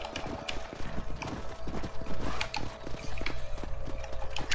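Horses' hooves clip-clop in a steady, close rhythm as riders travel in a video game, with a faint whinny and no speech.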